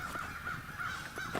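Crows at a wooded campsite give repeated harsh caws, four or five calls in an uneven rhythm, faint and far off with no talk.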